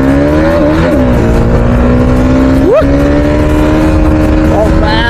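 A motorcycle engine runs close and loud, its pitch sweeping up in a quick rev near the middle and climbing steadily as it accelerates, with a steady drone underneath throughout.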